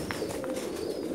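Thousands of pigeons in a large loft setup in Jeddah, Saudi Arabia, give off a faint, continuous low cooing murmur, with a few brief higher calls over it and no one talking.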